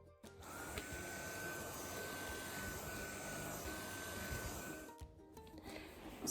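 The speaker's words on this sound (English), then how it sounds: "using this like dog hair attachment to hoover the floor" Vacuum cleaner hoovering a floor with a dog hair attachment, a steady close whining drone throughout with a brief dip near the end, no talking.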